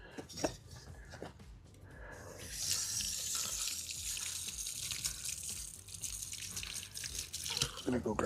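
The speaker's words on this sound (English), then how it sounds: "So just gonna move over here to my water spigot." Water gushes steadily from an outdoor garden spigot in a yard, a continuous hissing splash that starts after a couple of seconds of quieter handling sounds and continues to the end.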